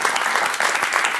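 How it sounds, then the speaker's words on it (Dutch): Studio audience applause on a Dutch TV sports talk show, a brief burst of dense, loud, even clapping with no pauses. "alvast een groot applaus van de mensen van VV Bislo."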